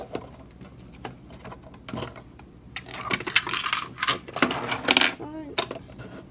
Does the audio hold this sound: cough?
no